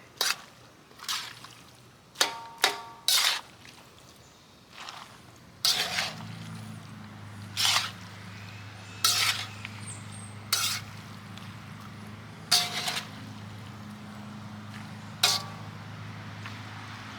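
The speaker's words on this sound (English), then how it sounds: "I'm going to break up the big chunks of cabbage that are still there." Chunks of cabbage broken up and stirred into haluski in a wok, with repeated sharp scraping knocks of the utensil against the pan at an uneven pace over a low steady sizzle.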